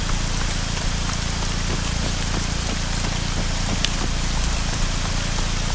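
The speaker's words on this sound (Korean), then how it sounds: "비는 주룩주룩" Rain pouring down in the video game Arma 3 Exile, a constant dense hiss of drops on surfaces, loud and unbroken throughout with no other sounds standing out.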